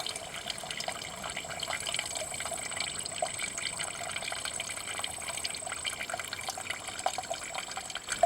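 Water running and filling a container from a source outdoors during a survival water resupply, a steady, close trickling gush with constant splashing texture and no voices.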